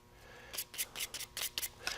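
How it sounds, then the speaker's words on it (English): Hand sanding rounds the edges of wooden guitar bracing in a series of short, quiet rasping strokes in an irregular rhythm, close and isolated with no talking. "light sanding will really help all of this"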